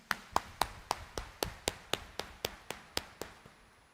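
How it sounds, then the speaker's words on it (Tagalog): Congregation clapping at an early-morning church mass, a steady rhythmic clap about four times per second, sharp and evenly spaced, fairly faint and slowly fading. "Itaas ang kamay at pumalakpak ng mas malakas"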